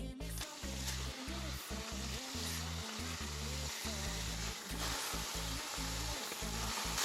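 Speckled trout fillets sear in a generous layer of tallow in a pan over medium-high heat, giving a loud, steady, close sizzle that runs unbroken throughout with a low rumbling hum beneath.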